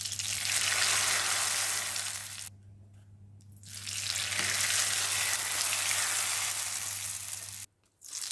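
Rice paper chips fry in hot oil with a loud, dense, steady sizzle heard up close, dropping away twice for a moment, once near the middle and again briefly near the end.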